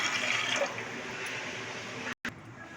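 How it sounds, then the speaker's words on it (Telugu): A glass of water poured into a pan of grated carrots for carrot sabudana kheer, a continuous close splashing gush for a couple of seconds with a brief break near the end. "వాటర్ వేసుకోవాలి ఫ్రెండ్స్."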